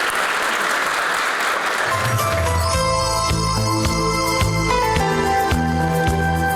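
Loud applause from an audience fills the whole stretch, steady and dense, while music with a beat rises underneath partway through.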